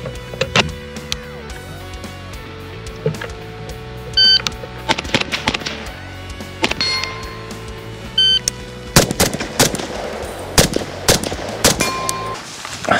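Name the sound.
CZ Bren 2 rifle firing 7.62x39 rounds at targets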